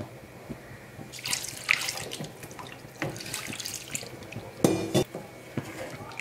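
Water is poured into a pot while rice koozh vadam batter is being cooked, with splashing and trickling alongside scattered clinks of metal utensils, heard fairly close.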